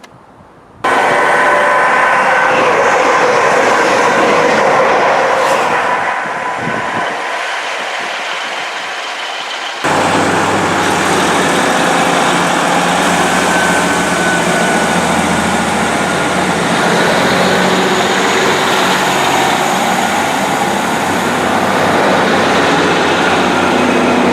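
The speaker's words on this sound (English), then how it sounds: "I'm staying on platform 1 to film the trains that way" A loud, steady rumble of a Northern train passing close by at Moses Gate station platform, broad and roaring, continuing for the whole stretch with a brief shift partway through.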